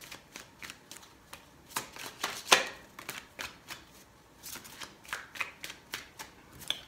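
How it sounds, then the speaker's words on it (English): Tarot cards are riffled and shuffled by hand in a quiet room, a series of crisp, papery bursts in an uneven rhythm, close and fairly soft, with no talking. "3 shuffles."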